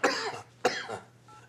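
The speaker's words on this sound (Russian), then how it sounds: "а почему вы кашляете?" A man coughs twice in quick succession, close and sharp, followed by a softer trailing breath in a quiet room.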